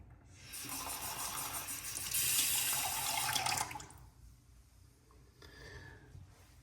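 Tap water running into a sink while a face is rinsed after a wet shave, a close steady splashing hiss that swells and then drops to quieter intermittent trickles and splashes.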